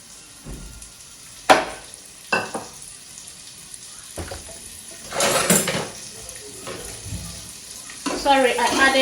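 Onions sizzling as they hit hot red palm oil in a home kitchen pan, a steady frying hiss with brief clatters of utensils and stirring, moderately near, with occasional bursts of louder crackle.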